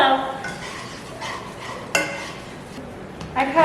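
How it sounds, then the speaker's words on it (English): A spoon stirs simmering onion in a pot, with soft scraping, knocks against the metal and a sharp clink midway, close and moderately loud, with a faint sizzle beneath. "my sous chef Kayla is going to come in to help me stir"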